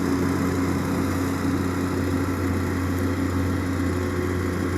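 A small 120/140-size machine fitted with an SRS tilt bucket runs with a steady, smooth engine drone, close and constant throughout with no talk.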